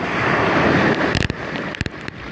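Sea waves washing around an island on a windy shore, a continuous close roar of surf with wind buffeting the microphone and a few sharp clicks near the end.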